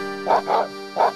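A dog barks in the video game Professor Layton and Pandora's Box, giving three quick bow-wow yaps in a short burst, loud and close with nothing else competing.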